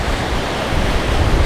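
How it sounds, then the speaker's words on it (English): Ocean surf breaking over an outer sandbank on a western beach where people are surfcasting: a steady, loud, broadband wash of rolling waves with no clear pauses, swelling slightly toward the end. "So there's those waves just disappeared, so we're fishing basically where those waves have just disappeared"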